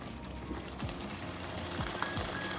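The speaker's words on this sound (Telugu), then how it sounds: "ఇప్పుడు మనం నీళ్ళు పోసుకుందాం." Water is poured into a bowl of tamarind pulp for a dry eel fish curry, a soft, steady splashing trickle in a quiet kitchen.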